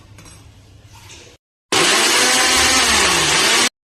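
After a short quiet stretch, a mixer grinder roars loudly and steadily for about two seconds grinding a snack, its motor pitch wavering slightly, then cuts off.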